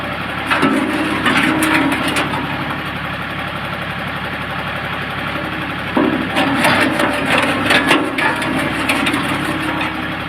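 Screw-type branch chipper running steadily while its auger grinds and cracks thin wooden branches, with bursts of knocking and crunching over the continuous engine drone, close and loud.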